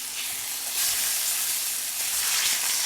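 Pork chops for an herb pork dish sizzling in a pan, a loud, continuous close hiss of frying that swells slightly in places, with no talking over it.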